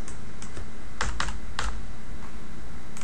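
Keys clack on a computer keyboard as code is typed, a few quick close taps clustered in short bursts over a faint background hum, with no talking.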